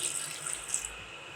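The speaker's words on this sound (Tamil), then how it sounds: "இன்னும் கொஞ்சம் தண்ணி சேர்த்துக்கலாம்." Water is poured into a country-style chicken fry as it cooks for a Tamil dish, giving a steady, soft splashing and trickling wash that lasts the whole moment.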